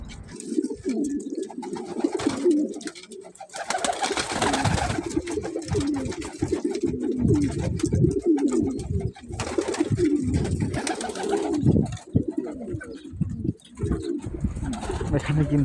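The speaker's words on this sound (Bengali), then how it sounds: "এখানে কিন্তু বিভিন্ন প্রজাতির কবুতর রয়েছে" Several pigeons of different breeds coo steadily in a desert coop, their low repeated calls near and continuous, with occasional voices and shuffling under them.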